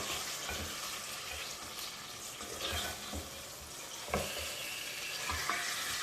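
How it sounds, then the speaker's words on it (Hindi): Beef pieces frying with onions in a pot sizzle steadily, with occasional stirring scrapes rising over the continuous hiss; no one speaks. "तकरीबन 2 मिनट हम इसको इस तरह से भूनेंगे ताकि गोश्त का कलर चेंज हो जाए।"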